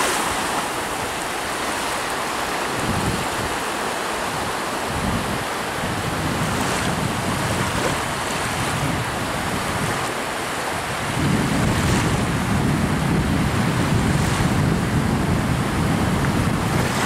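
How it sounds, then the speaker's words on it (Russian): Continuous roar of Baltic Sea surf with gusting wind on the shore at Riga, Latvia, a steady broadband wash that swells louder toward the end, with no voices. "Наслаждаемся морским прибоем."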